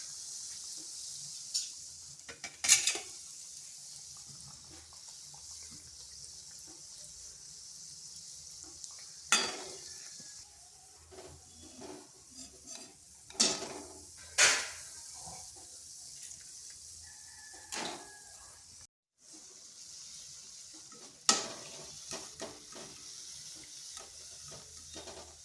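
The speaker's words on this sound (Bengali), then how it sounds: "এইভাবে উল্টে পাল্টে ভেজে নিতে হবে।" Coconut pitha, the sweet stuffed rice-flour cakes also called khejur pitha, frying in oil in a pan while being turned over, a steady soft sizzle broken by sharp clatters and scrapes of the utensil at irregular intervals, with no talk.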